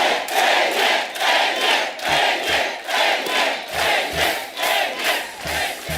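Studio audience on a Hindi TV comedy show cheers, claps and shouts for actor Ajay Devgn as he is introduced. The crowd noise is loud and continuous, surging in waves, with thumping beats underneath.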